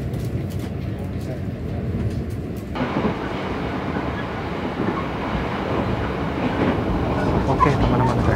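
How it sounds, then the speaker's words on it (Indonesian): Brawijaya executive train rolling out of Gambir station in Jakarta bound for Malang, heard from inside the carriage as a steady, continuous rumble that grows slightly fuller partway through, with faint wheel clatter and no talking. "kereta api Brawijaya sudah diberangkatkan dari stasiun Gambir"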